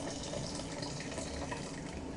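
Hot water poured steadily into a pan for homemade Ukrainian beetroot soup, a continuous splashing fill with broad hiss that stays fairly even and close throughout.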